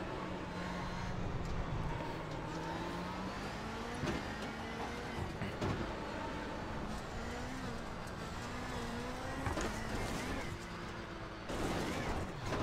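Race car engine in the iRacing simulator, a Porsche 911 RSR on the Belle Isle circuit, with a loud continuous drone that rises and falls through gear shifts and revs.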